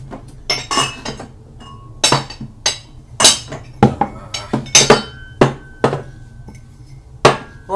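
Sharp glass and crockery clinks while a founder's porter beer glass is fetched for a barleywine, a dozen or so separate chinks in irregular succession, close and fairly loud, with no talk.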